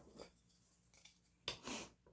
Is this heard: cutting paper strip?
yes